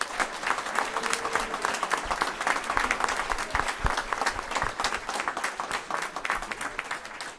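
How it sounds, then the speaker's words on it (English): Steady, dense audience applause at a school board of education meeting fills the whole stretch at an even level, many hands clapping indoors with faint crowd murmur beneath. "So let's just give them a round of applause for that."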